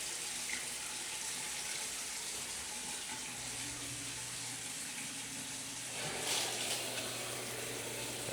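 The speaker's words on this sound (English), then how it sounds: "So first we'll just go ahead and turn on the single cold. Turn the hot on as well." Shower taps running with weak water pressure, cold and then hot turned on, giving a steady loud rush of water that thickens partway through when the second tap opens, with no talk.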